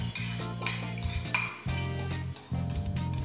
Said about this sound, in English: So we're gonna just scoop the filling into the pie.